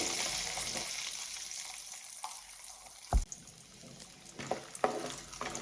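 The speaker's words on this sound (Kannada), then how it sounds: "ನಾನು ಚೂರು ಗೋಲ್ಡನ್ ಬ್ರೌನ್ ಕಲರ್ ಕಲರ್ ಬರೋವರೆಗೂ ಚೂರು ಫ್ರೈ ಮಾಡ್ಕೊಳ್ಳಿ" Cashews and peanuts frying in oil in a pan over a medium flame: a faint, steady sizzle with occasional sharp crackles and pops, with no talking.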